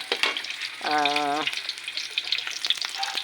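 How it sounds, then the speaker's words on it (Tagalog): Meat sautéing in a pan for a pork and beans dish makes a crackling sizzle with scattered spatters, interrupted by a short tonal squeal; no speech. "tapos igigisa ko yun siya"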